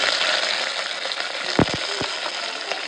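Spices, dried chillies and dal tempering in hot oil for sambar give a steady, close sizzle and crackle throughout, with a few sharper pops standing out near the middle.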